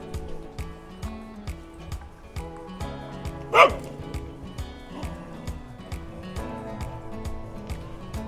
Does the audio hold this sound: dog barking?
yes